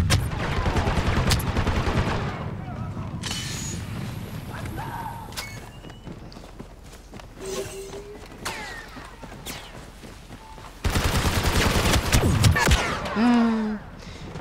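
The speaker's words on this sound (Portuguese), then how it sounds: "Eram dois atirando contra mim" Blaster gunfire in Star Wars Battlefront 2 crackles in rapid bursts, heaviest at the start and again near the end, with quieter stretches of game sounds between.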